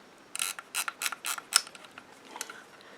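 A 1950s German Zeiss Ikon 35mm folding camera shutter winds and clicks in a quick run of faint ratcheting ticks, close and quiet, with nothing else around it.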